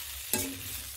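Food frying in a pan for about ten minutes gives a soft sizzle, broken by a single quick scrape of stirring near the start.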